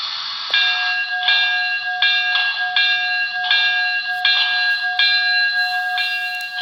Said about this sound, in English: I like the faster bell rate on the passenger locomotives.